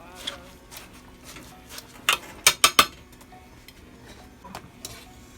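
Metal utensil scraping and knocking against a pot of boiling taro on a stove, with a quick cluster of sharp clinks in the middle and a faint background hum.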